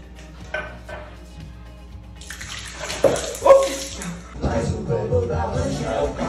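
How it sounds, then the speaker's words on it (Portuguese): Water is poured or left running at a sink or basin, starting faint and then turning into a louder, steady splashing stream, with a few light clinks and some brief background voices. "Lida, coloca uma água para mim, por favor."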